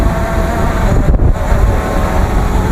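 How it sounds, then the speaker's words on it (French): A cold northerly bise blows across an open field, buffeting the microphone with a constant, loud, roaring rush and only a brief dip partway through. "il y a le vent, j'ai la bise qui vient de ce côté"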